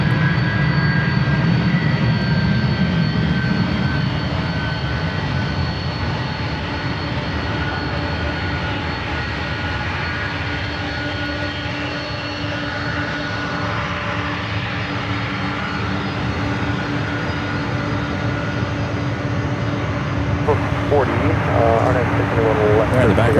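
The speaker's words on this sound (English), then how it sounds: "There in the background is the One World livery heading back to Tokyo Haneda, that 777 at 300ER." Japan Airlines Boeing 777-300ER in oneworld livery departing San Francisco for Tokyo Haneda: a sustained jet roar with steady whining engine tones, heard under continuous nearby commentary.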